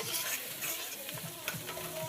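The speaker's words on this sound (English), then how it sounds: "My onions, bell peppers, and poblanos are caramelizing." Onions, bell peppers and poblanos sizzle and crackle in a pan, a steady close frying hiss with soft rhythmic scrapes of stirring and music faintly underneath.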